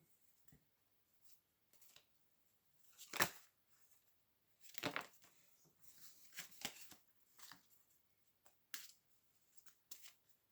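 Oracle cards are shuffled for a reading in short, soft riffling bursts separated by pauses, close and quiet in a still room.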